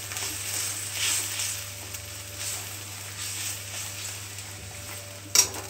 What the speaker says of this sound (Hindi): अब इसको हम लो फ्लेम पे खूब मसाला पकाएंगे।